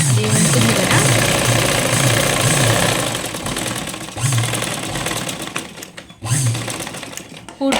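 A sewing machine stitches the lining of a blouse in loud, close, rhythmic chugging runs that pause briefly and restart.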